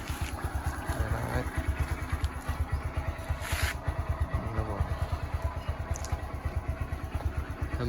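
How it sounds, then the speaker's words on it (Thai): A Honda MSX 125SF motorcycle engine idles in stock form with a steady, close, low-pitched rhythmic thump that runs the whole time, and some faint background clatter sits under it. "เดิมๆนะครับเสียงเครื่องนะครับ"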